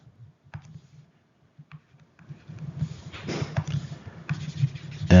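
Marker or chalk writing on a board in short scratchy strokes and taps, close and fairly quiet, growing busier toward the end.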